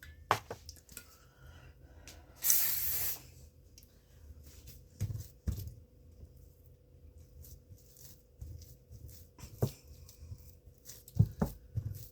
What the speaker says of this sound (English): I'm going to spray my hand to spread this out.